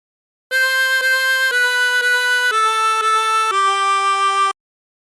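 A short harmonica melody from Twinkle Twinkle Little Star in second position, about eight steady, evenly paced notes, played solo, close and clear.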